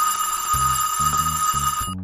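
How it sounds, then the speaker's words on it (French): A school bell rings at the end of the school day, a steady, sustained electric ringing held for about two seconds over background music before cutting off. "La sonnerie retentit enfin,"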